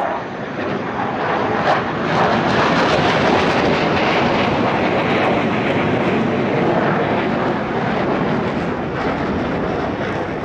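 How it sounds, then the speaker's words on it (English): Su-30 fighter jets making a three-way opposing pass at the LIMA Langkawi 2023 airshow, a loud, continuous broadband jet roar that swells slightly and holds steady for the full stretch. "And now the two Su-30s plus a third reposition for a three-way opposition pass."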